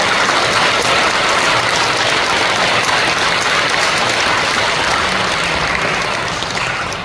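An audience at a church women's association general assembly applauds with strong, steady, dense clapping that fills the room and then starts to fade near the end. No one speaks over it.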